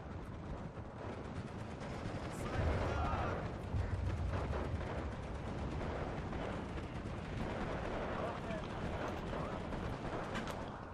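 Mortars fire in the Steel Division 2 war game amid a dense, continuous rumble of distant battle, with thuds and gunfire layered over one another and a voice speaking throughout.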